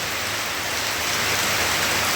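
Sudden heavy afternoon rain pours down in a dense, steady hiss with no letup, loud and close, drumming on surfaces where water is pooling.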